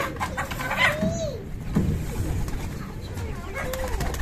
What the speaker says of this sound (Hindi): ऐसे तीन कबूतर हो गए हमारे पास।